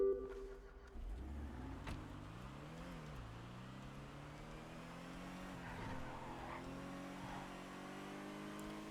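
A car in a video game drives with a sustained engine drone whose pitch climbs and dips as it accelerates, overlaid with tire skidding and squealing, steady and moderately loud without talk.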